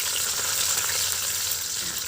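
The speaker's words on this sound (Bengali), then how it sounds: "আমি কিন্তু তেল দিয়ে দিয়েছিলাম, তেলের ভিতরে দিয়ে দিয়েছি আস্ত জিরে আর পেঁয়াজ কুচি" Whole cumin seeds and chopped onion fry in hot oil, likely over a clay stove, giving a steady, close, dense sizzle with no break and no voices.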